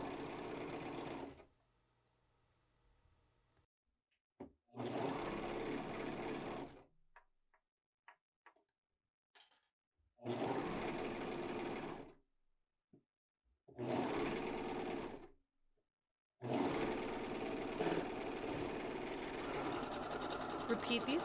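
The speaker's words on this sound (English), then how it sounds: "I'm using a sewing machine to show you the difference" A sewing machine stitches zigzag in several loud bursts of rapid stitching, separated by pauses with faint clicks and handling noises.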